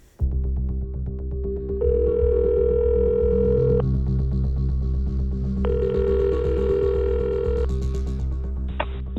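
Steady telephone dial tone and ringback while a call is placed, with repeated ringing bursts, loud and continuous, and a short beep near the end.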